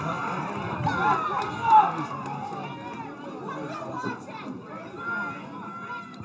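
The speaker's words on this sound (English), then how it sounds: "Crowd again, not really happy with that call." Spectators at a high school girls' soccer state sectional final murmur and grumble in displeasure after a foul call, a steady mid-level crowd hubbub with scattered voices and a brief louder swell.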